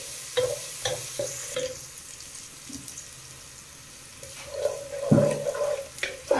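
Garlic-ginger paste frying in a pan for a potato and aubergine curry is stirred, giving soft scraping strokes and a low sizzle with a few louder clinks and a stronger burst near the end.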